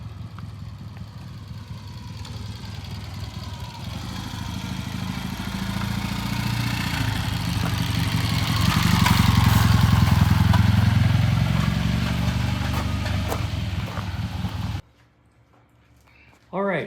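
A 1978 Triumph motorcycle rides in and draws near, its engine swelling louder with a metallic rattle from a loose muffler, then cutting off near the end, followed by a voice.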